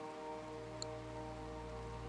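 Steady, faint rainfall in the colony-sim game RimWorld, a soft continuous hiss of rain on surfaces under a low hum, with no voices.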